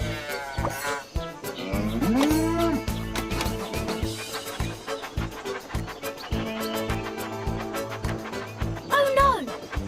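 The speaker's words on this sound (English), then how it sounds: "Sheep have wandered onto the tracks." Sheep bleat on the tracks in a Thomas & Friends train video game, several wavering baas over cheerful background music, with a narrator's voice talking across the scene.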